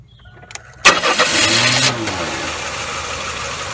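A Chevrolet Cavalier with a misfire fault cranks and catches after a couple of faint clicks, then settles into a loud, close, slightly uneven idle that carries on to the end.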